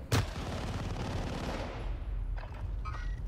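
Sustained automatic gunfire from a Call of Duty match, a dense rapid burst opening with a sharp crack, loud and close, tapering toward the end.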